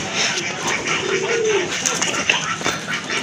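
A large male pigeon with a pink beak and white lace wings cooing close by, low rolling coos rising amid a busy loft of other pigeons, with a voice talking over it.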